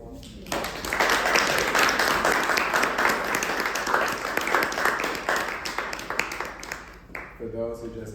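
Sustained applause from an audience at a fireside chat, a dense wash of clapping lasting several seconds, steady and moderately loud, tapering off near the end as a voice begins speaking.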